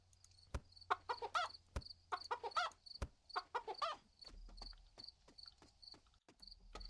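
Chickens clucking in the farm video game Ranch Farm & Store, a series of short close clucks and chirpy calls in quick groups, over a steady high insect-like hum from the game ambience.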